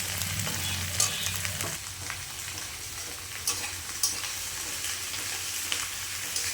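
Cut vegetables frying in a hot pan, a loud continuous sizzle with intermittent scraping stirs and clatter, heard alone without talk.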